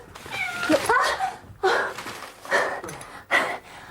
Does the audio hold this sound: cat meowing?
yes